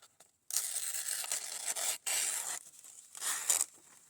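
A knife slices through lightweight newsprint paper in several close, dry scraping strokes, separated by short silent gaps.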